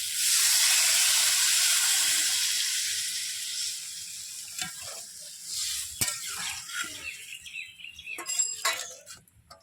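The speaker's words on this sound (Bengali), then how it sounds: "এবার আমি জল দিয়ে দেবো।" A loud burst of hissing sizzle as water hits a hot pan of fried potato and banana, gradually dying down into softer bubbling with scattered stirring clinks.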